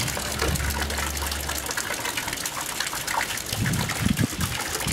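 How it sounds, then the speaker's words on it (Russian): Water pours from the barrel of a water-carrier fountain sculpture, a steady close gushing splash that holds throughout, with a low hum early on and a few heavier surges near the end. "изображен водовоз, который поднялся на скамею, по ступенькам, и в бочку вливает воду. А вода тут же выливается из бочки."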